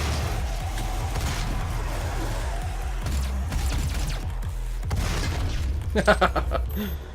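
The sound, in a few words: explosion in DOOM video game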